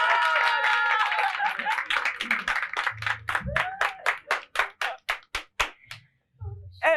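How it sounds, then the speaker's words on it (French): Hand clapping from an audience at a Saturday show honoring a baptism: a quick crowd patter that thins into slower, rhythmic claps from a few people before fading out, with voices over the start. "On applaudit pour le baptême également."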